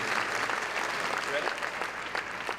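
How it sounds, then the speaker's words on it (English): An audience at an inspirational heroes event gives steady, continuous applause throughout, a moderately distant wash of many hands clapping with no talk. "Could I get a nice round of applause"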